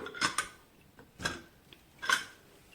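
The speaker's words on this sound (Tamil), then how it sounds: "போயிடுச்சு, குக்கரை திறந்துடலாம்." Metal clicks and clanks as the lid of a pressure cooker holding tomato rice is twisted open after the steam is let out, a few sharp, close taps spaced about a second apart in a quiet kitchen.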